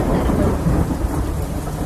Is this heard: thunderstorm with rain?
yes